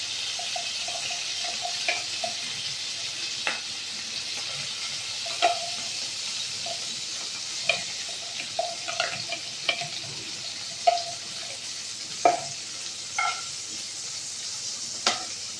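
Ghee mixed with oil heats in a pan for egg pulao, giving a soft, steady sizzle and hiss broken by occasional light clicks and scrapes of stirring. No one speaks.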